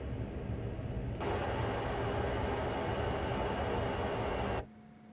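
CSX heavy haul freight train in the Train Sim World simulator, with a steady rumbling roar and broadband rail noise that swells suddenly, holds for several seconds, then cuts off to quiet hum.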